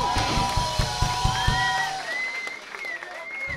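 A festival concert audience claps and cheers for a brass section, loud rhythmic applause with whoops at first, then a high sustained whistle and thinning, more distant clapping toward the end.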